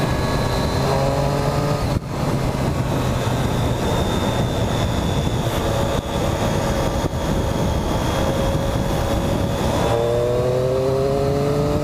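A Triumph Street Triple 675 motorcycle engine on a test ride, a steady droning exhaust note holding in fourth gear with wind rush and brief dips where the throttle eases before the pitch climbs again, loud and close.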